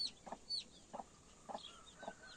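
Chickens and roosters in a village yard, with four evenly spaced soft clucks at mid distance and a few faint higher calls over a quiet outdoor background.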